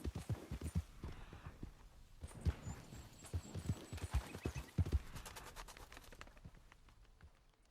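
A slower horse in Red Dead Redemption gallops with close, regular hoofbeats over several seconds, easing off toward the end, and a faint thin whistle-like tone sits briefly in the background.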